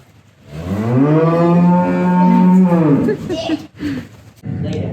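A Jersey cow on a small dairy lets out one long, loud, close moo lasting about two seconds, followed by rustling and shuffling noises in the barn.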